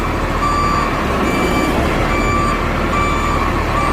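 An asphalt paver reverses on a road job, its loud steady reversing beeps repeating over the constant rumble of the diesel engine close by.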